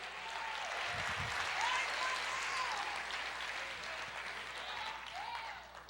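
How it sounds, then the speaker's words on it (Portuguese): A church congregation applauds together in a steady, sustained wash of clapping that fills the space, with a faint voice or tones drifting in above it. "Dê uma salva de palmas para o Rei Jesus."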